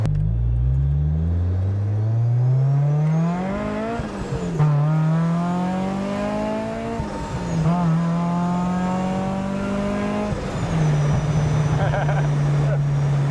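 A supercharged Mazda Miata engine of about 260 wheel horsepower roars through repeated rising gear pulls, each climb in pitch cut by a quick shift, loud and close.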